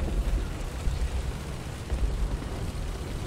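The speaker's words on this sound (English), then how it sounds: "I dropped some artillery on that Stug trying to get him" Artillery shells striking a StuG tank in War Thunder, a rumbling low boom with a steady crackling roar that swells twice, sustained and fairly close with no voices.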